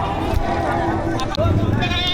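Goats bleat at a livestock auction in Padre Garcia, Batangas, brief calls rising close by under steady talk from people bargaining.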